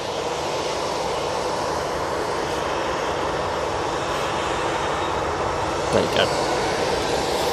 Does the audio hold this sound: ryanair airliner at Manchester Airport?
yes